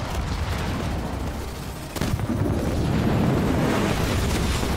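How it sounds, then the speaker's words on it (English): A big missile strike lands in Halo Wars 2, a heavy explosive boom at about two seconds that rolls into sustained low rumbling and crackling battle noise, loud and continuous to the end. "I'm going to drop a missile on these punks."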